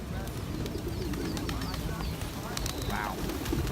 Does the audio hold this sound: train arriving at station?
no